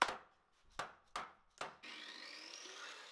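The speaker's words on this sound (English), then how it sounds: "I'm cutting these down quite a bit shorter than the actual length of my rack" Wood pieces for a rolling plywood cart are cut shorter: four crisp knocks in quick succession, then a steady whirring cut with a slowly rising whine, close and with no talking.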